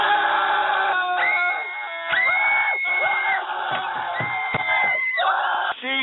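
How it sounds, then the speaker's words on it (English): A crowd screams and cheers loudly throughout, with overlapping shrill whoops and shouts in a dense, continuous roar on a radio show recording. "Jesus Christ, why are you screaming?"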